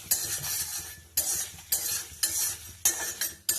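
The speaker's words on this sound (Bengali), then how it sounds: "ফ্রাই করে নেব, অল্প ভাজা মশলা মতো করে নেব" Spices sizzle in a hot pan as a utensil scrapes and stirs in about six quick, rhythmic bursts; no voices.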